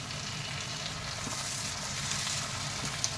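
Chopped tomatoes hit hot oil in a pan while anda bhurji is being cooked, giving a steady, close, loud sizzle and crackle that holds without a break.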